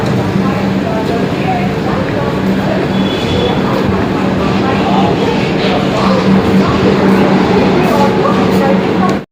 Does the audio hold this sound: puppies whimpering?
no